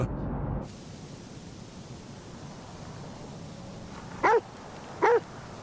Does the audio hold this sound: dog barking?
yes